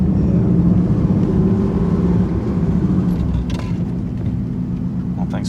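Inside an air-cooled Porsche on the move, a loud, steady low engine rumble and road drone fill the cabin, with a voice and a few faint clicks over it.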